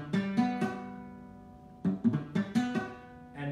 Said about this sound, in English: Because if you're not pressing with the fingertips, it's gonna sound like this.